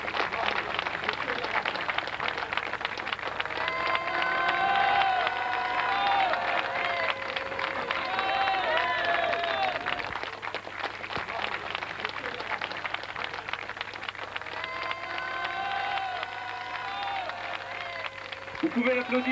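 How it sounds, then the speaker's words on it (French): A crowd applauds steadily for a long stretch, with scattered cheers and whistles rising and falling and a voice talking over the clapping from time to time. "Vous pouvez l'applaudir, Didier Goard,"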